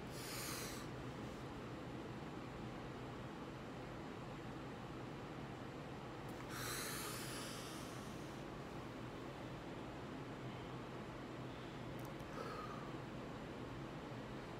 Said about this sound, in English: we like to breathe in and breathe out